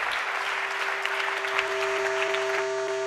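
An audience at a 2018 strategy slam event in Vienna claps for a speaker in steady, dense applause that holds at an even level, with a faint constant tone running beneath it.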